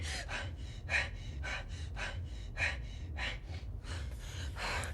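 Rapid, ragged breaths and sharp gasps repeat in quick succession, close and fairly loud, with a steady low rumble underneath.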